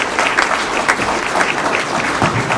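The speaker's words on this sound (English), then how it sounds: "Nice round of applause to our candidates." Applause from an audience at a League of Women Voters candidate forum, a short burst of steady, fairly close clapping with a murmur of voices.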